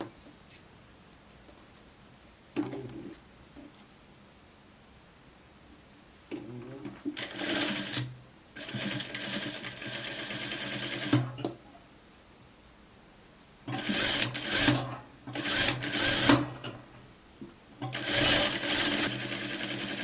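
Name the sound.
sewing machine stitching a raglan sleeve coat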